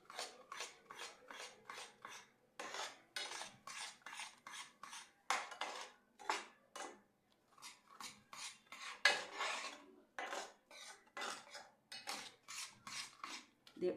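Roasted flour stirred into milk and sugar syrup in a pan for lemon barfi, heard as rhythmic scraping strokes of a spoon against the pan, close and moderately loud, with short pauses between bursts and no talking.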